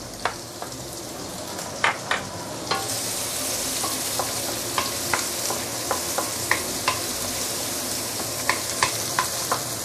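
Garlic, ginger and dried shrimp fry in hot oil in a pan, a steady close sizzle that swells louder partway through, punctuated by many sharp clicks and scrapes of a utensil stirring against the pan, with no talking.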